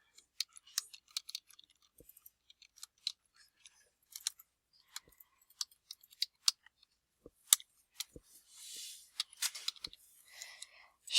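Sparse, irregular clicks of keys being pressed on a computer keyboard while typing a personal business letter, with short bursts, occasional pauses and a few louder key strikes near the end.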